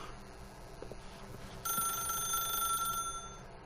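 A telephone rings in the video game The Stanley Parable, a bright electronic trill that starts suddenly and continues for about a second and a half over a quiet ambient hum, with no talk.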